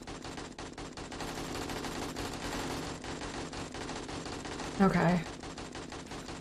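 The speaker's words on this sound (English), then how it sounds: "They are just steadily shooting those guys." Steady machine-gun fire rattles continuously in the survival game 7 Days to Die, moderately loud, with a brief spoken word midway.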